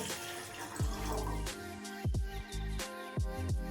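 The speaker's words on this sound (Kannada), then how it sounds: "ಮೊದಲು ಒಂದು ಪಾತ್ರೆ ಇಟ್ಕೊಂಡು ಒಂದು ಸ್ವಲ್ಪ ನೀರು ಹಾಕಬೇಕು." Water splashes and gurgles into a pot, with several distinct plops and drips over a steady running trickle. It is close by and moderately quiet.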